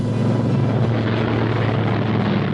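A P-47N Thunderbolt fighter plane flies low over a city in an attack, its propeller engine a loud, steady droning roar with a deep throbbing hum that holds throughout, no voices present.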